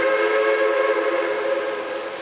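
A steam train's whistle on the Silverton line sounds a loud, sustained chord-like tone held for about two seconds, slowly fading slightly.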